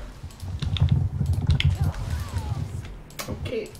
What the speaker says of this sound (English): Dude, you are typing up a storm.